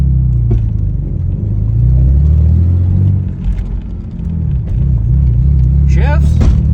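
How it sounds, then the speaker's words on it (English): Ford Mustang engine idling and moving with a badly chattering clutch, a loud heavy low rumble with uneven pulsing, a dip and swell partway through, with people talking over it inside the car. "Clutch chatters real bad."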